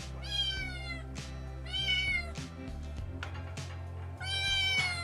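A cat meows several times, loud and close, in repeated drawn-out cries separated by short pauses, with soft rustling and no talk.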